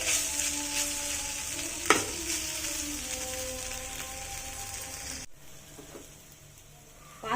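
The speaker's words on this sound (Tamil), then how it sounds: "சாஸ் ஊற்றி கிண்டிக்கலாம் ஃப்ரெண்ட்ஸ்." Pasta sauce sizzles in a hot pan as it is stirred, a steady crackling hiss with a sharp scrape of the spoon near the start and a dip in the frying noise toward the end.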